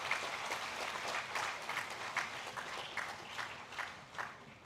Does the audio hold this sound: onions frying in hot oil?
no